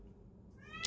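A pet cat meows once at the door, a short rising cry at the very end after near silence, faint and close by.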